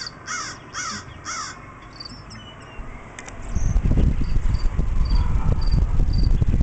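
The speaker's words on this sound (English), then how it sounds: "It's a bird." A bird calls outdoors in a few short repeated bursts early on, then sparser thin calls continue while a louder rumbling, rustling background rises in the second half.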